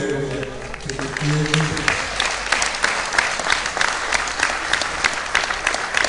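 At the finals and awards of an Under-23 national individual championship, a voice speaks briefly, then the crowd breaks into steady, dense applause for the young athletes that carries on to the end.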